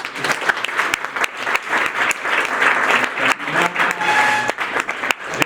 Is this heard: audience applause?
yes